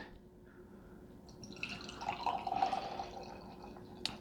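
Loan Oak Farm Belgian-style witbier being poured from a bottle into a glass, a soft gurgling trickle that swells to a bubbling, fizzing flow in the middle, then tapers off, quiet and close.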